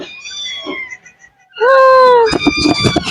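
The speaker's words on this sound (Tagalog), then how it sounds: "Ito ang aming mga kuting. May bago kaming kuting." New kittens meow in several close, high, drawn-out calls, one quieter cry first and then a louder rising meow followed by shorter ones.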